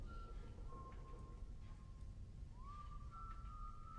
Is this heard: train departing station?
no